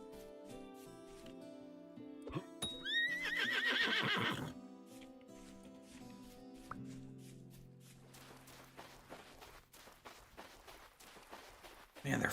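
In the video game Vintage Story, a horse gives a loud rising whinny near the start, followed by a stretch of hoof clatter and splashy footsteps, with a burst of louder noise at the very end.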